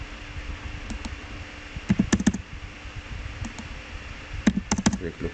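A computer keyboard is typed on in short bursts of sharp clicks separated by pauses, over a low background hum. No one speaks.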